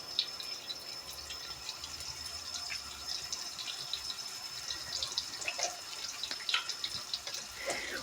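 Tap water running while hands are washed and rinsed at a kitchen sink, a steady close stream with splashing and dripping, no talking.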